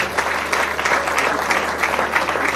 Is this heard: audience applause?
yes